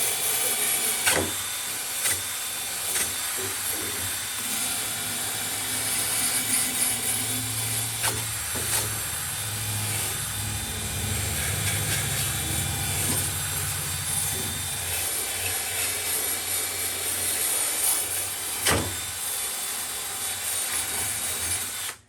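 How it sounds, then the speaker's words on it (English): A cordless drill spins a wire wheel against metal motorcycle parts, giving a steady whirring, scratchy grind with occasional sharp clicks and knocks, close by and without speech. "just taking a wire wheel and a cordless drill"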